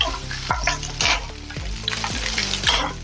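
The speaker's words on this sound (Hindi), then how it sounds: "थोड़ा सा इसमें तेल डालेंगे और अभी इसमें हम भूनेंगे नारियल" Dry coconut roasts in oil in a wok, giving a continuous sizzle broken by repeated scraping stirs of a spatula against the pan at a steady, close rhythm.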